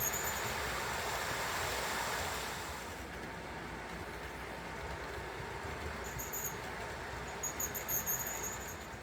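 A small model train locomotive whirs along steadily at speed step 28 with a soft mechanical hum, punctuated later by faint high-pitched squeals from the track.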